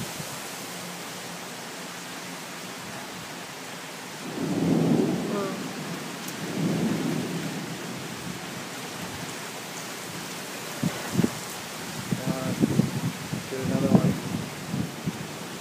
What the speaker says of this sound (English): I love storms.